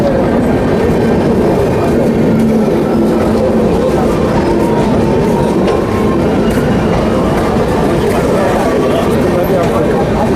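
Raigarh–Hazrat Nizamuddin Gondwana Express hauled by a WAP-7 electric locomotive, a loud continuous rolling rumble with rhythmic wheel clatter running the full length, close by.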